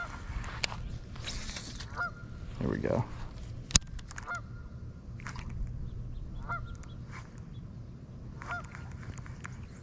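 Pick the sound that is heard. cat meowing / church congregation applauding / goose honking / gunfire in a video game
goose honking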